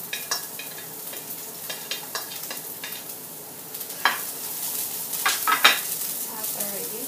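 Onion sizzles in a pan while cabbage and baby marrow are sautéed nearby, a close, soft crackle broken by clinks and scrapes of a utensil against the pan.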